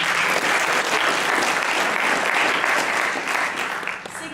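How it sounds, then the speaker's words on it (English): A debate audience breaks into dense, sustained applause that stays loud throughout and tapers slightly near the end. "Round of applause, please."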